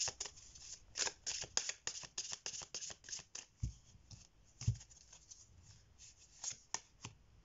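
Tarot cards being shuffled and drawn for a reading, a steady run of close, crisp riffling and slapping card sounds with a few soft thumps as cards are laid down, no speech.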